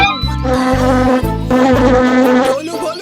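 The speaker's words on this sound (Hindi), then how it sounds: "जरा मेरी नाक के ऊपर से मच्छर उड़ा दो" A cartoon mosquito buzzes loudly and continuously, its whining drone wavering in pitch over a rhythmic pulsing backing track.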